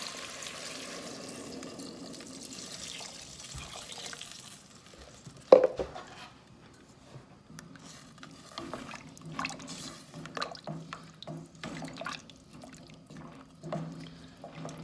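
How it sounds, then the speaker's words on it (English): Water pouring into a pot of butternut squash soup, a steady splashing stream after a sizzle and a clunk, close and moderately loud. "So what I'm gonna do right now is I'm gonna add water"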